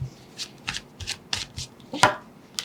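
Tarot cards are shuffled by hand in a quick series of crisp riffling bursts, close and fairly quiet, with no talking.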